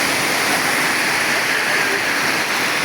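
Heavy rain pours during a storm, a steady loud wash of dense rushing noise with no breaks, close and enveloping throughout.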